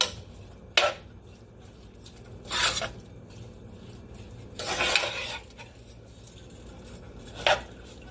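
A utensil stirring beef and broccoli stir fry in a pan, four separate scraping strokes spaced a couple of seconds apart over a low steady background hum.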